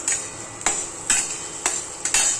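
A spoon scrapes and knocks in a pan as chopped onion and garlic are stirred over a hot flame, with four or five close, evenly spaced strokes over a faint sizzle.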